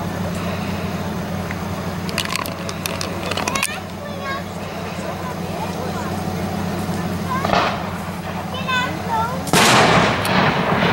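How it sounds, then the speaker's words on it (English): A ceremonial cannon booms to welcome tugboats at the Waterford tugboat parade: several sharp distant reports, with a louder blast near the end, over an outdoor crowd and someone talking. "that rifle shot in the background, guys, is actually the cannon they're firing off to welcome all the boats here to Waterford"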